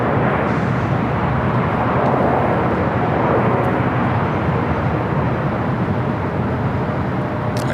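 A special-livery Airbus A350-900 airliner in carbon-fiber colours at LAX gives a loud, steady broadband jet roar that holds for the whole stretch without a break.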